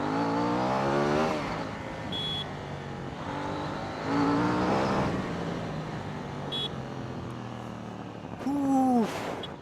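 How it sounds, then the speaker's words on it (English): KTM Duke 790 motorcycle accelerating hard, its engine note climbing through rising harmonic sweeps with brief dips between gears, loud and close, ending with another sharp rev surge. "let's stop talking and pull this motorcycle."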